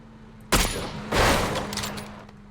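Gunfire in PUBG fired from a moving vehicle: two loud, close bursts of rapid shots about half a second apart, the second trailing off in a rattling tail over a steady engine hum.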